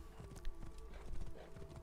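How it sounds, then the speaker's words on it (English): A horse in the game THE CREED running off, its hooves clip-clopping in a quick uneven patter at moderate distance over a low ambient hum, with no voices. "Why is my horse running away from me?"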